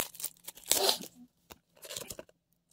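An eFootball card pack is torn open close up: a brief crinkling rip with a louder burst of tearing in the middle, then a second shorter tear, quiet and alone with no voices.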